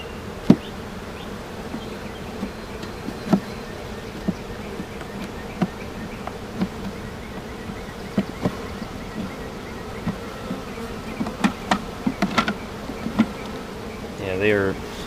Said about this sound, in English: there's a lot of bees in the box too